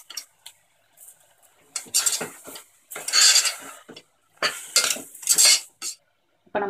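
Washed goat trotters are tipped into a pan of sautéed masala for mutton paya and stirred, giving close, intermittent metallic clatters and scrapes of a spoon against the pan in bursts, with quiet pauses between and no talk.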